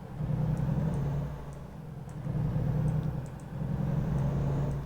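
A deep, steady Volvo VNL heavy truck engine in the video game American Truck Simulator rumbles at a low idle, swelling and easing in slow cycles, with faint clicks above.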